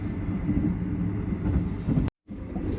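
A Thai sleeper train running from Bangkok to Nong Khai, heard from inside as a steady low rumble and rolling drone, broken by a sudden silence near the end before the noise resumes.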